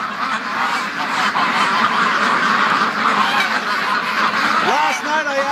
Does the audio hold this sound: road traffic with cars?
no